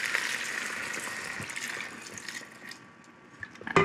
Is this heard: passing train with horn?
no